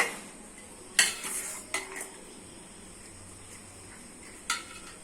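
Cooked rice is spooned into a pot for chicken potato biryani, with a few sharp metal scrapes and clanks of the utensil against the pot separated by quieter pauses, no talk.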